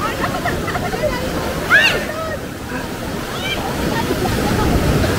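Loud, rushing surf with strong monsoon-season waves churning and crashing close by at Alubihod Beach, Guimaras, Philippines, voices calling out faintly over the roar.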